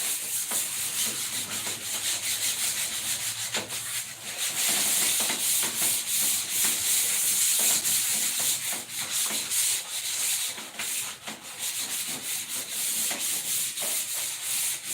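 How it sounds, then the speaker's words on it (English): Steady abrasive rubbing of sandpaper scraping across drywall, continuous with rhythmic back-and-forth strokes, fairly close. "we're not really sanding, we're just knocking down the rock."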